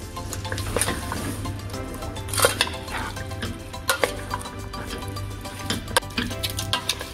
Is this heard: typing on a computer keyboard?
no